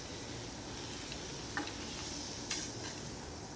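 Amaranth leaves and liver fry curry being stirred in a pan over a low flame: soft scrapes and a few light knocks over a faint steady sizzle, with no talking.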